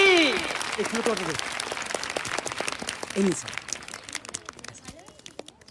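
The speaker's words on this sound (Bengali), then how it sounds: "হাততালি।" A crowd claps for a political leader at a public gathering, dense applause that fades over several seconds while a voice speaks briefly at the start.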